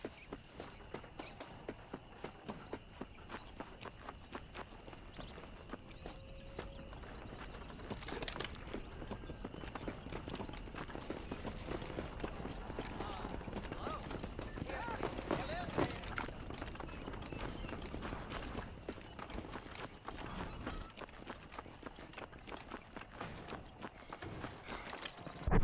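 Horse hooves clip-clop steadily in Red Dead Redemption, a continuous rhythmic trot at moderate distance under game ambience and a voice talking.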